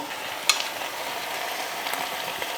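Soy-sauce chicken galbi, Korean style, stirred in a hot pan, giving a steady close sizzle with one sharp scrape or clink early on and soft stirring noises, no voices.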